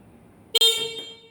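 A motor-tricycle horn blares in one short, loud honk, then a second brief toot follows right after, with quiet background noise around them.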